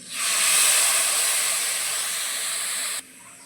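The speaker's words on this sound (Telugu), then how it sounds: "ఒక స్పూన్ వాటర్ అయితే వేసుకోవాలి" A spoonful of water hits a hot pan of carrot fry and bursts into a loud, steady hiss of steam that fades slightly, then cuts off abruptly near the end.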